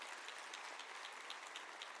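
Faint, even clapping from a graduation ceremony audience at the University of South Africa, soft and distant, with a steady hiss of many hands and no speech.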